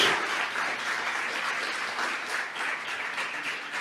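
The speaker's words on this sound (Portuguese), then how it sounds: "Você pode aplaudir ao Senhor." A church congregation applauds in a dense, steady wash of clapping that holds for several seconds at moderate loudness, with no voices over it.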